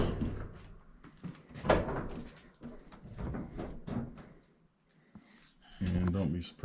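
Samsung dryer front panel knocked and pushed into its bottom slots and locked in place, with clunks, scrapes and a final thump under a man's speech.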